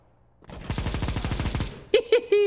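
Rapid burst of gunfire shot through a wall in the video game CSGO, a fast rattling string of close shots followed by a few sharp separate bangs, with no talk over it.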